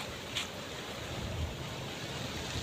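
Sea waves washing onto a beach at Ilihan, Batangas under stormy weather with a typhoon approaching, a continuous loud wash of surf mixed with wind noise, no talking.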